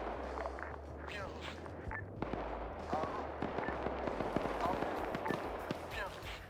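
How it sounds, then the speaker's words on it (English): Mines exploding in a war video game, a run of sharp thuds and cracks scattered through the stretch, moderately loud, with some talk around them. "Charlie, I'm hearing explosions over by your position."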